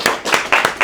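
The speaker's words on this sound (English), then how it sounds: "I want you guys to give a very great big round of applause for our next speaker." Applause from a live audience at a talks event, with sharp, close hand claps in quick, uneven succession over a brief moment.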